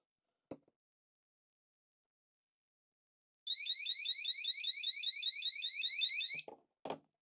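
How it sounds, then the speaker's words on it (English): A shrill electronic crawlspace drain-pan water alarm beeps rapidly for about three seconds, sharp and close, with a couple of brief clicks before and after it. "in this tray is a alarm system"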